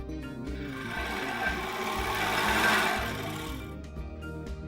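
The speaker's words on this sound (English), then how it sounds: "I will sew here, here, and here using a serger" A serger sewing machine stitching fabric for a baby turban hat, a loud, close, continuous whirring hum that swells and fades slightly, then stops with a few small clicks.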